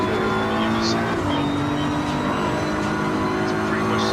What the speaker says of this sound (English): Now listen to the engine. I love it. You can hear the turbo too.